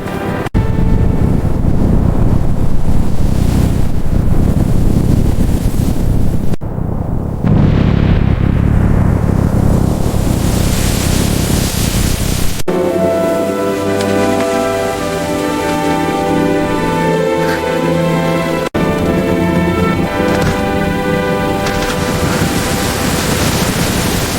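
Strong gusting wind roars continuously with heavy rushing noise, like a storm battering outdoors, loud and close throughout.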